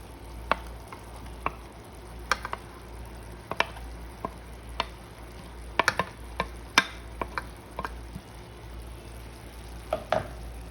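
Minced meat frying in a pan for lasagna, a low steady sizzle under repeated sharp clicks and taps of stirring scattered throughout, no voices.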